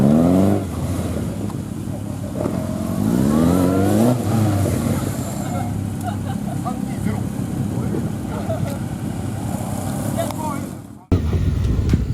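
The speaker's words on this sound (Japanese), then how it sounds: "古見さんの8の字、キレッキレで速い" Police motorcycle on a gymkhana training course sweeping through a tight figure-eight, its engine rising and falling steadily in pitch as it throttles through each turn, close and continuous, with the sound cutting abruptly near the end.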